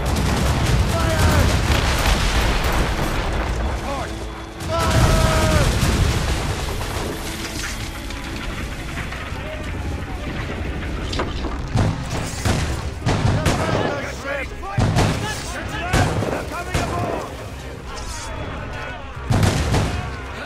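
Gunfire and cannon fire crash through a battle in Assassin's Creed Rogue, with dense bursts and heavy booms layered over music and shouting voices throughout.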